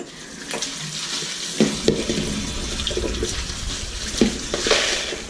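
Orchid potting medium being rinsed in water gives sloshing, swirling splashes with occasional sharper clatters of bark pieces, moderately close and with no talking.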